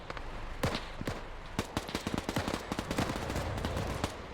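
Gunfire in a video game battle on Raate Road: a rapid, uneven series of sharp shots and short bursts, moderately distant and fairly quiet, keeps cracking throughout.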